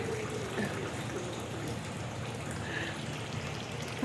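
Light rain falls steadily in Saudi Arabia, a soft continuous patter of drops on outdoor surfaces, fairly quiet and even throughout with no talking.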